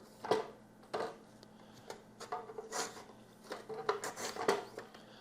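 A Fullstar vegetable chopper slicing through vegetables, giving a series of separate scraping and clicking cuts with short rasping strokes, close and fairly quiet, with no talking.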